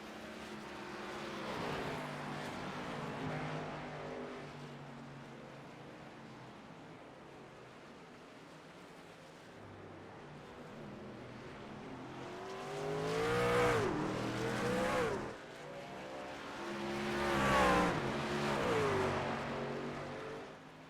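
Race cars in a sim racing game at Canadian Tire Motorsport Park drone steadily, then two cars sweep past in turn, their engines swelling loudly and falling away, with no talking.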